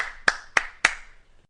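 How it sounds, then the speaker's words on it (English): Three sharp hand claps in an even rhythm, close and fairly quiet, with nothing else around them. "Station master applauds"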